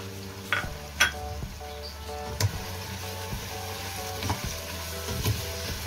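Chicken frying in a pan with red chilli flakes, salt and turmeric as it is stirred, a steady sizzle broken by several sharp scrapes and clinks of the spoon against the pan.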